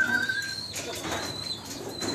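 Racing pigeons return home to a loft after a race from Vigan, with soft cooing and bird calls against faint outdoor background noise.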